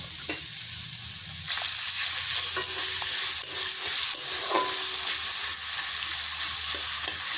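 Diced potatoes fry in a pan for a sabudana breakfast dish, a constant close sizzle broken by the scrapes and knocks of a spatula stirring through the pan, with no talking.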